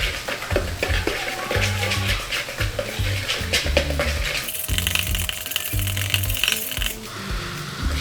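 Black bean burger ingredients, including mashed black beans, are stirred together in a bowl, giving a steady rattling, scraping and clinking of a utensil against the bowl that runs close and continuous for several seconds with no talking.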